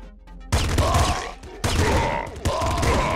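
In the video game Nuclear Throne a pop gun fires in three loud bursts of rapid popping shots, each burst dense and punchy with short gaps between.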